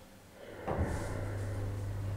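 A Temple hydraulic lift in a Bromley car park starts going up: a soft thud as it engages, then a steady low motor hum that keeps running, moderately close, with no talking.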